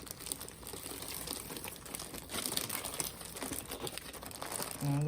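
Plastic bag of jewelry being opened with close crinkling and rustling of thin plastic, steady and busy throughout, swelling louder near the end.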